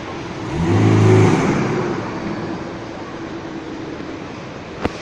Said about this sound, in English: There's some sort of car show going on, so they're driving Porsche and Maserati cars around.